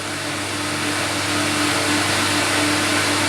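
A CamVac dust extractor runs with one motor on alongside a vacuum pump, giving a loud, steady broadband roar with a constant hum beneath it and no pauses.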